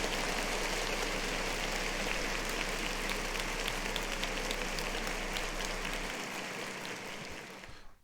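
Steady, even applause on a talk show, a continuous hiss-like patter of many clapping hands that holds level and then cuts off sharply at the end.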